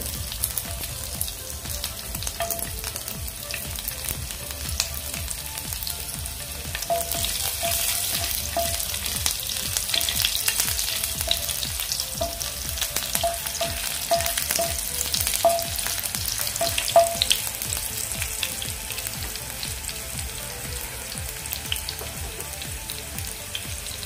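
Crushed garlic frying in oil with cumin seeds for a bitter gourd dish, a dense continuous sizzle with fine crackling that swells slightly in the middle, close and steady, no talking.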